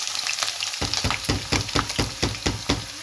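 Finely chopped onion fries in hot oil for stuffed grape leaves. It makes a close, steady sizzle, with quick regular stirring scrapes in a fast rhythm.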